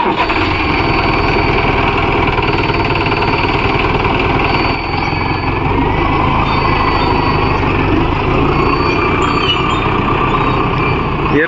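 A Mahindra Arjun Novo 605 DI tractor engine runs steadily and loudly while driving, a dense continuous rumble with no break across the whole stretch.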